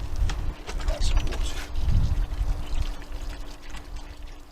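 Water poured from a can onto a newly planted full-sun flower border, a close splashing trickle that runs steadily for a few seconds with soft outdoor background and faint bird calls.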